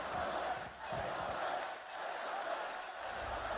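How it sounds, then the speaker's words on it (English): A dense esports arena crowd at the VCT Masters Copenhagen 2022 grand final, PRX versus FPX, roars and cheers steadily and loudly throughout, a broad wash of many voices with no clear breaks. "The crowd want to see it."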